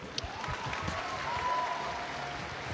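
Applause rises from the audience at a Russian national figure skating jumps championship, a soft, distant, steady patter of clapping in a large arena, with faint tonal sounds drifting over it.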